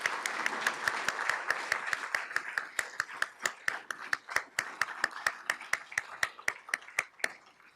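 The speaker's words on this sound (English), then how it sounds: "And let's give these folks a round of applause." An audience applauds past Rising Star recipients, with dense clapping that thins out into distinct individual claps toward the end, at moderate room volume.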